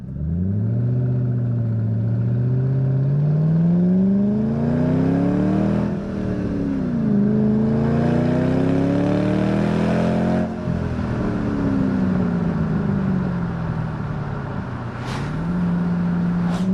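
A supercharged 4.6-liter 2006 Saleen Mustang with a 5-speed runs loud and close, its engine note climbing through the revs, dropping at each gear change, then pulling again in a steady, continuous drone with no talking.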